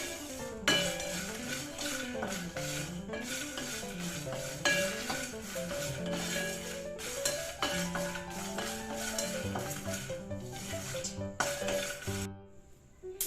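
Peanuts, cloves, cinnamon, pepper and dried red chillies fry in a pan for a stuffed eggplant curry, a soft sizzle beneath repeated scraping strokes of a spoon and clinks against the metal.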